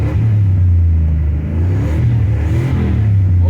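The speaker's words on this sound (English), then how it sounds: "actually rev it up for real so you can get some satisfying footage" A 2006 Mercury Mountaineer engine revving after a cold start at -10°F, loud deep rumble rising and falling through a couple of revs, close and steady throughout.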